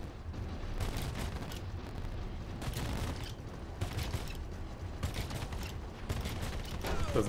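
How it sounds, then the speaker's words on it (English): Spaceship weapons firing all at once in Star Citizen, a steady rapid barrage of blasts and booms with a dense rumbling bed, continuous and moderately loud throughout. "Just firing all the weapons at once"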